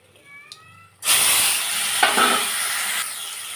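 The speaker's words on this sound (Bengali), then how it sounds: "চাটনিটা আমের একটু সরষে ফোড়ন দিলাম।" Mustard seeds hit hot oil for mango chutney and burst into a loud, steady sizzle that runs for several seconds after a quiet moment with faint clinks.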